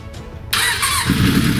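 A Suzuki GSX-R 750 motorcycle engine starts up close by, with a short starter whir before it catches and jumps into a loud, rough, steady running roar.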